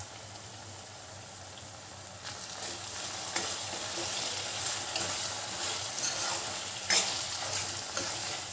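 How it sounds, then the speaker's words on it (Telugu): Ginger garlic paste frying with tomatoes in a pan for chicken curry, a steady close sizzle with soft stirring scrapes and a few louder clinks, no talking. "ఇందులోకి ఒక 2 స్పూన్స్ అల్లం వెల్లుల్లి పేస్ట్ వేసుకుందాం"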